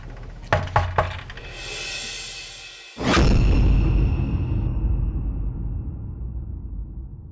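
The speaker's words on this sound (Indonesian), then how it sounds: "Coba saya bantu ketok ya, Pak." A few sharp knocks on a wooden house door ring out close by, followed by a louder sustained whoosh and rumble that fades away slowly.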